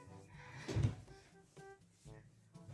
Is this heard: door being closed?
yes